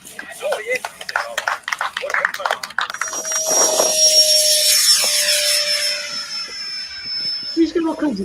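A Freewing MiG radio-controlled model jet flies overhead on a windy day, its rising turbine whine swelling in and holding steady while people talk nearby.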